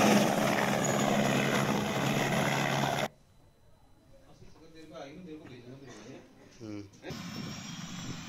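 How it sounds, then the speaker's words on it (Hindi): Indian Air Force Cheetah helicopters deployed for an avalanche rescue roar with loud, steady rotor and engine noise, cut off midway by a quieter stretch of talk before the helicopter noise returns. "भारतीय एयरफोर्स ने 2 चीता हेलीकॉप्टर तैनात किए हैं ताकि जल्द से जल्द रेस्क्यू किया जा सके।"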